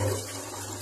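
Water is poured into a mix for concrete, a brief splashing gush that is close and fairly loud.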